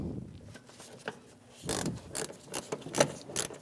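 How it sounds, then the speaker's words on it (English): A ratchet with a 10mm socket snugs a bolt through the fender of a Chevrolet Malibu, giving scattered sharp clicks and metallic ticks, close by, after a few quieter handling noises. "then I'll put my ratchet on"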